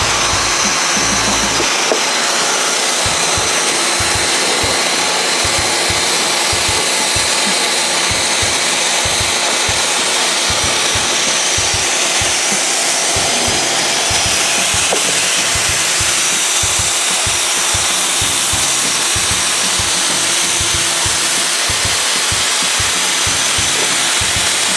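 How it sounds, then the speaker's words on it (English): Hot air welder, a hot air gun running around 1,000 to 1,200 degrees with a pressure wheel, fusing roof membrane seams on a commercial rooftop; a steady loud blowing hiss with a continuous rumble runs the whole time, with no talking. "I'll show y'all the welder here that we use to weld these seams together. It's simply a hot air gun."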